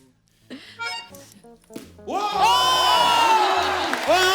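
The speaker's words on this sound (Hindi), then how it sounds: "जोरदार तालियां हमारी क्रिकेट टीम के लिए" A studio audience on a comedy show cheers and whoops loudly for a women's cricket team, a burst of crowd noise that swells after a few short spoken exclamations and carries on strongly.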